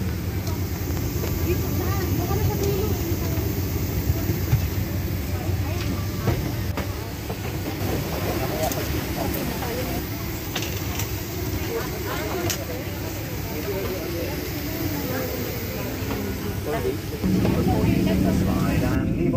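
Steady, loud cabin rumble of an airplane waiting before departure, a continuous broadband drone with occasional clicks and a slight rise near the end, with people talking over it.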